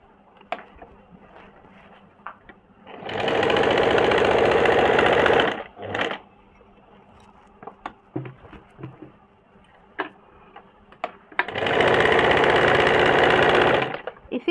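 Sewing machine running double stitching on a kurti's tucks: two loud, sustained bursts of stitching separated by quiet pauses filled with small clicks and fabric handling.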